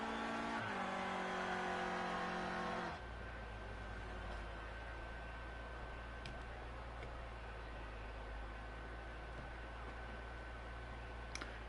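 Clio Cup race cars in Project Cars 2 at Laguna Seca, a revving engine with shifting harmonic tones that drops at about three seconds into a steady, loud drone with rushing noise, like a car passing and cruising near the finish.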